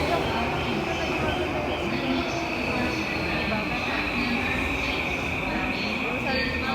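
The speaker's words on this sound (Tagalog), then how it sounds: "Grabe, ang haba ng train." A long train runs through Tokyo, a steady rumbling roll with a faint high whine over it that carries on evenly throughout.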